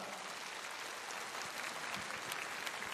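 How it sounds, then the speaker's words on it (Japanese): Applause from a crowd at a professional basketball arena after a halftime piano duet, steady dense clapping filling the hall with no voices. "改めて皆さん大きな拍手をお願いします"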